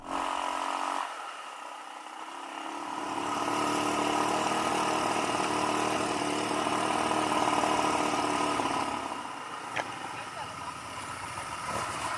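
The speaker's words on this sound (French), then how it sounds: "On va faire un peu de quad au milieu des rizières." A quad bike engine runs steadily among rice paddies in the hills of Bohol, Philippines, a droning mid-pitched hum that swells louder through the middle and then eases slightly.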